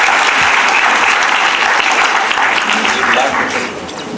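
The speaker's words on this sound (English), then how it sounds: "Can we have a round of applause for Dr." Loud, dense applause from a panel audience for a speaker on genome editing and agriculture, a steady roar of many hands that eases off near the end.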